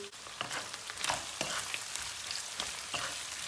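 Meat fries in a pan with added garlic and onion, making a continuous, fairly soft crackling sizzle. Repeated scrapes and knocks come from stirring, with no voices.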